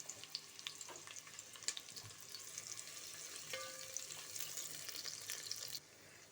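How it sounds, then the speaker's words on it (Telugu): Thinly sliced onions drop into hot oil for bagara rice, giving a steady crackling sizzle with scattered pops and occasional stirring clinks that ends abruptly. "ఆయిల్ వేడింది. ఆనియన్స్ సన్నగా తరిగి పెట్టుకున్న ఆనియన్స్ వేసి"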